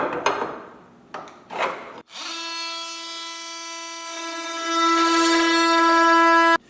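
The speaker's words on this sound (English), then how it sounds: "I could do this with a saw, but I'm actually just going to use a beautiful Milwaukee multi-tool." Some brief handling rustles come first, then a Milwaukee oscillating multi-tool cuts aluminum fascia flush. It sets up a loud, steady buzzing drone that swells near the end and stops abruptly.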